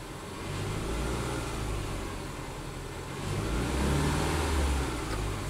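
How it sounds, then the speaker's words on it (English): A Subaru engine with a limp-home fault code, revved while parked: a low, steady engine drone that swells and rises in pitch toward the end, heard close with no talk. "Seems to rev up fine."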